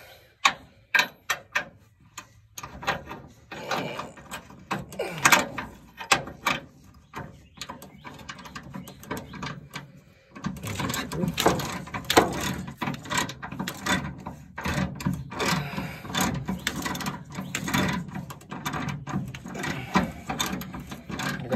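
A ratchet wrench turns a bolt under a 2002-2008 Dodge Ram truck, giving dense runs of sharp, close clicking that start sparse and then become a steady, busy rattle with no talk.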